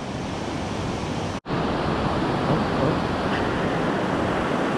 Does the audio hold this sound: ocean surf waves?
yes